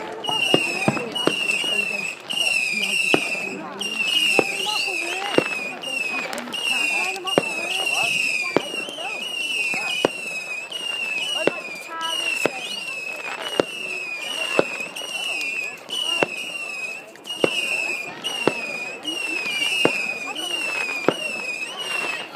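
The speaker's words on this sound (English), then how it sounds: "And this fireworks coming off over there." Bonfire Night fireworks bursting repeatedly at a distance, with sharp cracks and pops scattered through a steady crackle and whistling, while people talk and exclaim over them.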